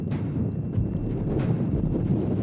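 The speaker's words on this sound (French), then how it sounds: "Face au vent qui souffle fort" Steady, heavy wind roars and buffets across the microphone on a mountain ascent in Greenland, a continuous low rumble with gusty surges and no voices.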